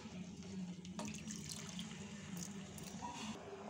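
Water pours into a pot of amaranth-leaf dal, a steady running splash with a faint trickling edge, close and continuous, with no talk over it.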